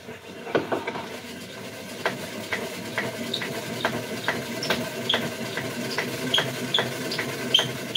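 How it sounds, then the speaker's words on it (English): A salad spinner whirls freshly developed film dry, giving a steady mechanical whir with a run of regular ratchet-like clicks and light rattles at close range, with no voices. "Toss it in the salad spinner."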